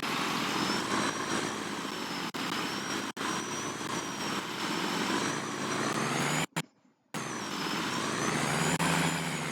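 Case tractor engine in Farming Simulator 19 drones steadily and loudly with a rising turbo whine, broken by a brief dropout near the end.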